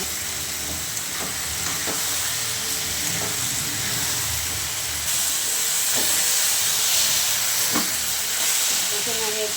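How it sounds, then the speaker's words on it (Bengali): Chilli fish masala cooks down with tomato sauce, soy sauce and chilli powder, giving off a loud, steady steamy sizzle close by. Occasional soft stirring knocks sound over the continuous hiss. "এখানে আমি টমেটো সস, সয়া সস আর একটু লঙ্কার গুঁড়ো অ্যাড করে দেবো। ভালো করে কষিয়ে নেব।"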